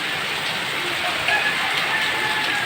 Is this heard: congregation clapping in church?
no